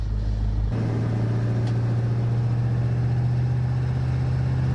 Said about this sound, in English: This thing runs great, man. So let's take a drive.